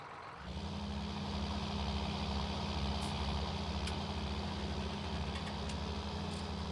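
A tractor engine idles steadily on a farm, a continuous low, rumbling drone with strong bass harmonics that starts after a short quiet lead-in and holds loud and close throughout, with a few faint higher clinks on top.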